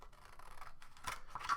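Scissors snipping through a paper strip for a paper-weaving craft, close and fairly quiet, with short crisp cuts clustered near the end.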